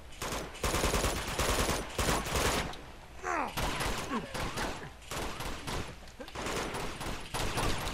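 Rapid gunfire in Uncharted 2, dense automatic bursts repeating loudly in clusters across the whole stretch, with a short lull in the middle and faint voices mixed in.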